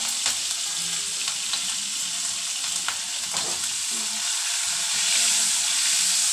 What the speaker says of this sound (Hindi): ये अच्छी तरह से फ्राई हो रही हैं, ग्रीन चिलीज और ये गरम मसाला, जीरा अच्छी तरह से ये फ्राई हो रहा है।